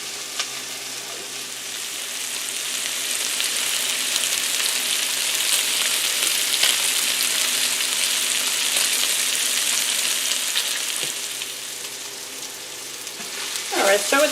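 Onions fry and caramelize in a pan, giving a loud, steady, even sizzle that builds and holds across the whole clip. A brief clatter comes near the end, with no talking.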